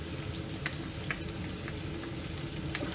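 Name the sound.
garlic frying and sizzling in hot oil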